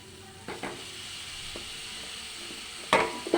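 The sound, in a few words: pumpkin added to sizzling pan for aloo kumror tarkari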